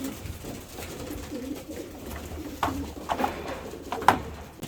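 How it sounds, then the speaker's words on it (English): Male pigeons coo in soft, throaty bursts that become more frequent toward the end, over a steady low background rumble. "all the cockbirds going crazy now because they've had their little feed"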